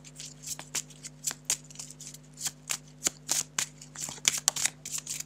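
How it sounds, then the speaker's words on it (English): Tarot cards being shuffled in quick bursts, crisp riffling flicks and slaps repeating irregularly at close range over a faint steady hum, with no speech. "Cards are flying."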